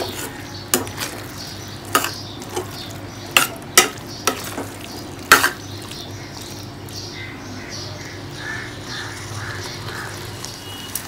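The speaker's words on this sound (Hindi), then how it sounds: "मटर को हमें करीबन एक मिनट तक इसे भूनना है।" Dried peas stir-fried in a pan over a medium gas flame, with repeated sharp clinks and scrapes of a spoon against the pan over a steady low sizzle.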